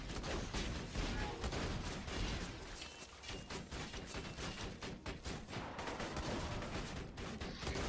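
Turret gunfire in the video game Borderlands 2 crackles in rapid, dense bursts of shots that continue almost without pause, loud and close.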